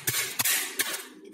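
Garlic cloves being smashed flat for a Chinese-style tofu and fish dish, three sharp, close knocks spaced evenly apart with no voices.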